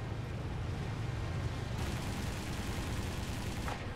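Rapid machine gun fire from a WWII fighter plane on the Eastern Front in War Thunder, a dense continuous burst over a droning aircraft engine, loud and close, with a brief pause near the end.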